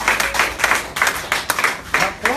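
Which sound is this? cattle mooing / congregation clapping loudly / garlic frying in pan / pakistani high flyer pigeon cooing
congregation clapping loudly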